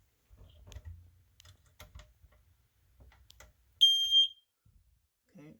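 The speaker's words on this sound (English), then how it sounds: "we have a smoke detector to the entrance to the stairs to the basement" A smoke detector at a basement stair entrance under test gives one short, loud, high-pitched electronic beep, preceded by quiet handling knocks and taps.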